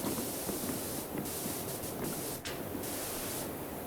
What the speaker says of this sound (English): Get some spraying on this.